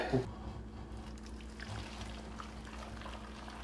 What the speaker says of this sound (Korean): 자, 그러면 이제 육수를 여기 넣으시면 되거든요